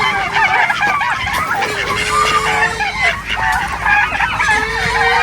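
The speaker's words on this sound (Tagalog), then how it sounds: "Ito mga pabo naman. Itik." A noisy flock of turkeys and ducks honks, gabbles and quacks continuously at close range, with calls overlapping throughout.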